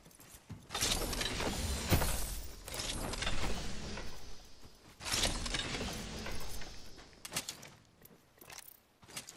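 A healing kit being used in Apex Legends, heard as mechanical clicks, creaks and rustling handling sounds in several bursts over about nine seconds, with no talk.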